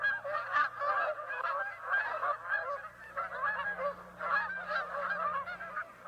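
Canada geese call in October in Minnesota along the Mississippi Flyway, a flock giving a steady stream of overlapping honks throughout, moderately loud, with no talking.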